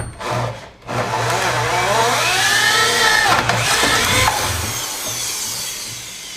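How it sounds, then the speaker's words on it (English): A heavy-duty drill bores into wood with an Irwin SpeedBor spade bit, a loud, sustained whine that strains and drops in pitch as the bit bites and nearly stalls, running alone without talk. "Look at that, it's almost stalling the drill out."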